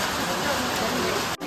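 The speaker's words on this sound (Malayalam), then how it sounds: "ഇപ്പോൾ നല്ല മഴ പെയ്തുകൊണ്ടിരിക്കുകയാണ്" Heavy rain pours steadily outdoors during a family wedding gathering, a dense, even hiss that fills the clip from start to finish and cuts out briefly near the end.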